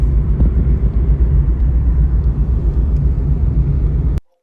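A car drives along a highway with a loud, steady low rumble of engine and road noise that cuts off abruptly near the end.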